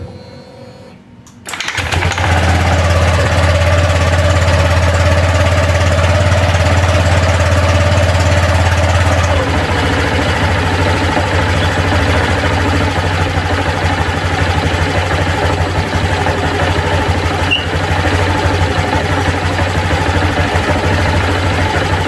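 A Honda Vario 125 scooter, fitted with 15-gram rollers, starts up and settles into a steady idle while resting on its stand, the engine note close and continuous with a constant low hum.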